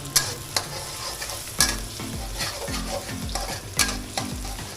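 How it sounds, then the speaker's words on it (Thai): Chili and garlic stir-frying in hot pork lard: a steady close sizzle with rhythmic scraping knocks of a utensil against the pan, heard without any talking. "แล้วก็ทำการคั่วให้หอมๆนะครับพริกกับกระเทียม"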